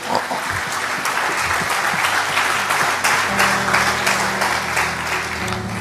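A church congregation claps loudly and steadily throughout, dense applause filling the room close by, with a low sustained tone entering partway through.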